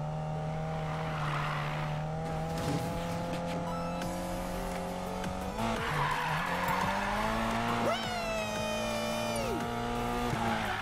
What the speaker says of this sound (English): It's asking me to do 3 good drifts.